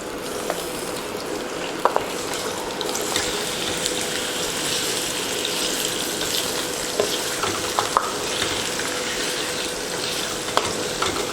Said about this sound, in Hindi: हमारा कुकिंग ऑयल गर्म हो चुका है। इसमें चिकन डालेंगे, इसको हाफ डन करना है।